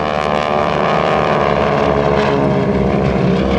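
Aerobatic airplane engine drones loudly and steadily at the GEICO Skytypers airshow, AirPower Over Hampton Roads 2007, with wind buffeting the microphone throughout and no voices.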